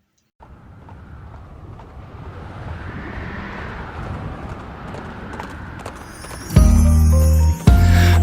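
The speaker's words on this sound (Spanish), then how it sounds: "Ahí va Saulo en su caballo, los cristianos a arrestar." A horse's hooves clip-clop in a steady, rhythmic trot as Saul rides, building from silence and continuing for about six seconds. A loud burst of music-like tones then cuts in over the end.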